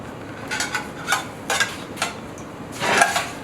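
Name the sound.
cooking out green curry paste in a saucepan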